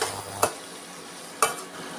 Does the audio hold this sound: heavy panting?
no